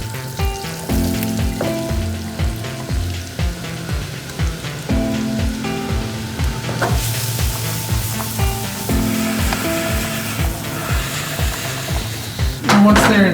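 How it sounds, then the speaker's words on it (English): Vegetables sizzle loudly in two butter-coated pans on a stovetop, a dense, continuous fry with repeated clatter and stirring knocks, close to the microphone. "I'm going to toss in my veggies."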